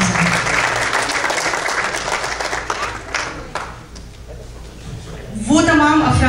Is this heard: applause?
yes